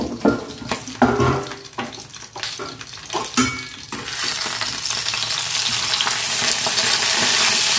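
Banana flower paturi frying in a pan over a low gas flame, with a few clattering knocks and handling sounds at first, then a steady hiss of sizzling that swells and holds loud and close.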